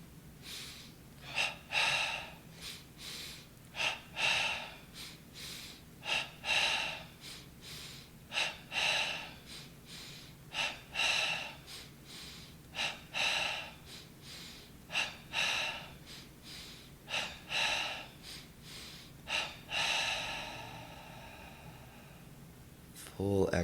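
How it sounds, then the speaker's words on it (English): Double breathing pranayama yoga exercise: paired sharp nasal inhales and exhales repeat in a steady rhythm, close and fairly quiet, ending with a longer drawn breath. "we'll begin our double breathing pranayama"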